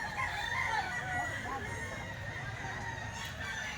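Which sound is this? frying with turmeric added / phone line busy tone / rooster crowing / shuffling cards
rooster crowing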